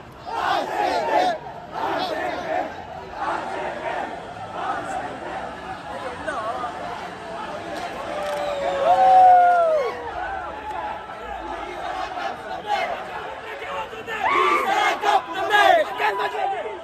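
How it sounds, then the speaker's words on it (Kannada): A large crowd of RCB cricket fans shouts and chants in celebration of a championship win, a dense roar of many voices with rising cries and whoops, close and loud throughout. "ಗೈಸ್ ಕ್ರೌಡ್ ನೋಡಿ ಗೈಸ್"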